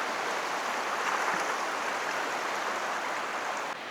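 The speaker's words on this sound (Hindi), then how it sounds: "गाइस पानी का बहाव देखिए कितना तेज़ है" A fast-flowing river in a jungle near Ramnagar rushes steadily with a loud, broadband roar, constant throughout with no voices.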